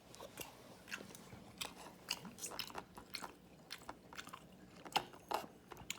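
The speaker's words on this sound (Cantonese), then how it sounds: "食雞俾大家睇" Someone eats chicken up close, with repeated wet bites and crunchy chewing in an irregular rhythm, quiet and with no talk.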